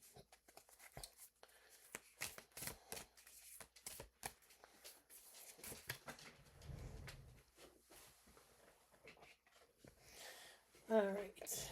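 Healing Spirit oracle cards by Gordon Smith being handled, giving soft papery shuffles and slides up close, with quiet speech in places and a brief louder knock near the end.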